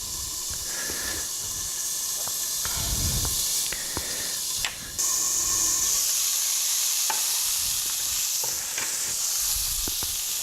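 Water steams in a hot pan to melt cheese on burgers, a close, continuous hiss and sizzle with occasional bursts, clattering and handling noises, no talking.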